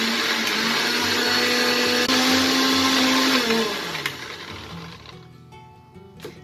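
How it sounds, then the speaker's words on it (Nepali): A mixer grinder whirs loudly and steadily as it pulverises roughly chopped tomatoes and onions for a restaurant-style chana masala gravy, the motor note dropping and winding down near the end. "हामीले अघि रफली काटेको गुलभेडा र प्याजलाई पनि यसैमा पिस्छौ"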